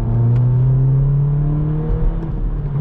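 Modified BMW 118i F21 accelerating on open roads, a steady, loud engine drone with a rising tonal whine heard from inside the cabin, continuous and close.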